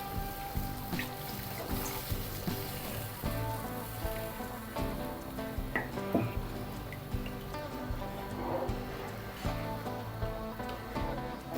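More water goes into a simmering okra masala, giving a continuous soft bubbling and splashing hiss at moderate level, with no one talking.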